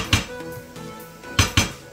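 A utensil stirs mushroom fried rice in a Saladmaster pan, giving three sharp metallic clanks against the pan, one early and a close pair near the end, over a low sizzling bed with no talking.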